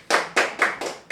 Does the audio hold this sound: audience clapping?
yes